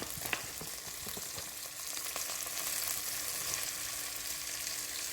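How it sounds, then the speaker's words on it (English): Flour browns in a pot for beef stew with a soft, continuous sizzle and a few faint stirring clicks, quiet and alone with no talking. "maybe a tablespoon of flour. Kind of let it brown a little bit in there."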